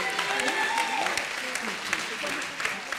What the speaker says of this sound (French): nous applaudissons bien fort